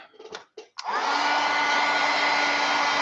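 A hair dryer blowing on wet watercolor paint starts after a few short handling noises, then roars with a steady, loud, close whine for the rest of the clip without any talk.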